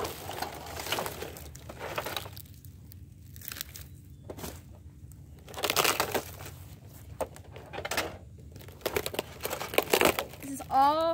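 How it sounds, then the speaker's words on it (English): A Roku TV screen is pulled off and crushed in bursts of crackling, crumpling breakage, with loud stretches around the middle and end separated by quieter gaps, while voices talk nearby. "Oh my gosh, guys, the screen's coming off."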